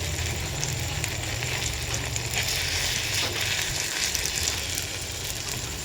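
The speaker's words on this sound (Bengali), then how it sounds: "আর এই গোলা রুটিটা ভাজি, তারপরে ভাত বসাবো।" Onion batter flatbread (gola ruti) frying in a pan, with a continuous, even sizzle and crackle of hot oil heard close by and no voices.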